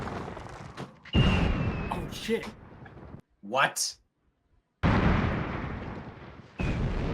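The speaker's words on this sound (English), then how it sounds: "He's blowing things up and then having fireworks come out." Explosions and fireworks from the 1975 film Monty Python and the Holy Grail, heard as loud, sudden blasts separated by quiet gaps, with viewers' startled voices in between.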